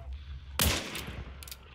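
A single gunshot rings out in the video game Hunt: Showdown, a sharp crack followed by a fading echo, with a faint second report shortly after over quiet ambient background.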